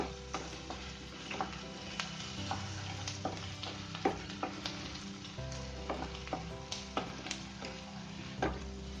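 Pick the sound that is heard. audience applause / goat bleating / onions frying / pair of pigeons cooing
onions frying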